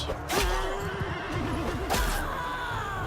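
A horse in the video game Bannerlord 2 lets out a loud, wavering whinny over a dense battle din, with sharp crashes and impacts bursting in around it.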